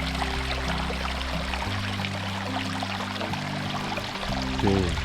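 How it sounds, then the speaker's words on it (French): Water trickles and splashes steadily from a small waterfall on Santa Maria in the Azores, a continuous close wash of sound with a low hum underneath throughout. "il y a un petit peu d'eau qui coule, qui ruisselle là"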